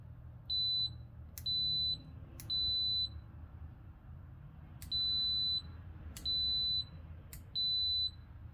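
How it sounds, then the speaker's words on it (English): The test leads of a Kaiweets KM601 multimeter are tapped together repeatedly in continuity mode, setting off six sharp, high beeps, each starting with a tiny click, in an irregular rhythm over a quiet low hum. "you can hear the tapping of the leads together"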